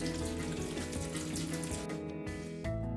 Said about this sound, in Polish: Na koniec wlewamy wodę demineralizowaną